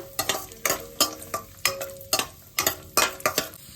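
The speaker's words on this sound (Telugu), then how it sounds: "స్టవ్ వెలిగించుకుని గిన్నె పెట్టుకుని మనం నెయ్యి అయితే వేసుకుందాము రెండు స్పూన్లు జీడిపప్పు బాదం పప్పు ఇవన్నీ వేయించుకుందాము" Cashews and almonds fry in ghee in a pan while a spoon stirs and scrapes in a quick, regular rhythm of about a dozen close clinks over a soft sizzle.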